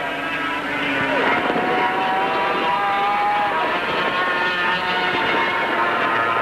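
Racing motorcycles at a 1976 circuit race in hot weather, engines droning at high speed down a back straight toward a hairpin, a steady roaring whine with a commentator talking over it.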